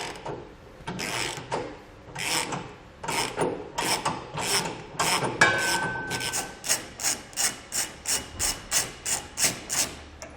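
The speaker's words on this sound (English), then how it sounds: "we can grab a 21mm socket and remove these 2 factory bolts" A ratchet with a 21mm socket loosens the factory bolts holding a vehicle's bumper beam, starting with irregular clicking bursts and settling into a fast, regular run of close, crisp ratcheting strokes.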